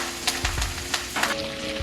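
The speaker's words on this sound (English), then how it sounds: "While that butter melts, we're gonna throw in our rosemary and thyme." Rosemary and thyme hit melting, frothy butter in a pan, a close, steady sizzle with crackling pops throughout.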